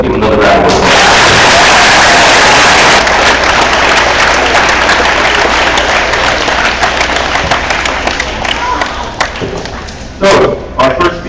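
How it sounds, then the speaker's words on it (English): Audience applause at a school assembly, loud dense clapping that thins into scattered claps and fades out, with a few voices and thumps at the end. "Let's give him another round of applause."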